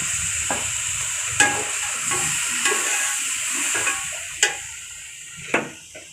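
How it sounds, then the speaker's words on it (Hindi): A little water goes into a mutton biryani masala frying with tomatoes and green chillies, giving a steady sizzling hiss broken by a few sharp clicks of a spoon stirring against the pan. "थोड़ा सा पानी डाल देंगे।"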